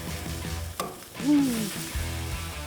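Grass-fed Bubba burger patties sizzle and crackle loudly in a pan, a steady close frying hiss with a brief scrape partway through.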